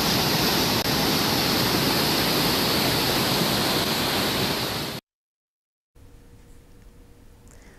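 Floodwater from a swollen river in Arunachal Pradesh rushes over a wall, a loud, steady roar of churning water filling the first five seconds before cutting to near silence and a faint, distant wash.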